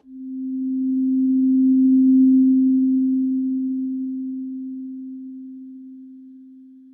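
A single steady low pure test tone through a noise gate, loud and sustained for several seconds, swelling slightly early on then slowly tapering off.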